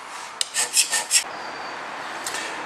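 A hand scraper cross-scraping a metal bearing surface makes four quick, close rasping strokes in a row, then a short pause and one fainter scrape.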